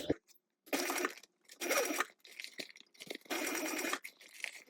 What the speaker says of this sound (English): I'm gonna go ahead and go around here and stitch everything down at 1/4 inch seam allowance